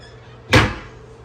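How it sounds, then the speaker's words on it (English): A resort room's sliding closet door gives one quick soft thud as it rolls shut in a quiet room. "Slider door."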